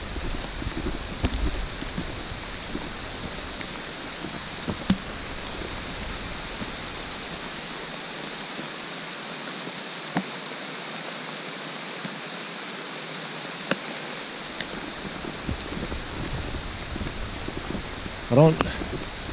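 Rain falls steadily through dense tree cover on a forest hiking trail in Oil Creek State Park, a soft continuous wash of patter with a few faint drips and knocks.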